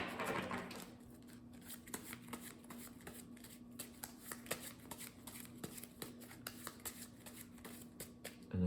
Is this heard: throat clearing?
no